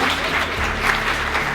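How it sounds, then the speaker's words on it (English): Audience applause at a talk in Atlanta fills the whole stretch as loud, steady clapping from a crowd. "Let's give them a round of applause."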